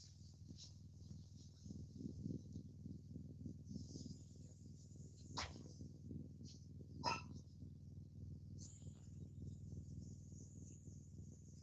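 A couple of dog barks ring out somewhat distant over a steady chirring of insects and a low background rumble.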